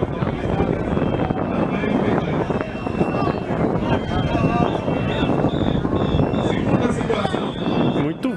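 Strong wind buffets the microphone in a steady, loud roar with gusty rumbling throughout.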